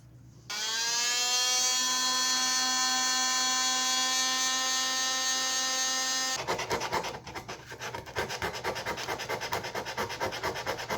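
Power sander working on the body of an old Mini car: a steady, high-pitched whine with a strong tonal hum starts abruptly and holds, then turns into rough, pulsing scraping as the pad bites the metal, loud and close with no talking.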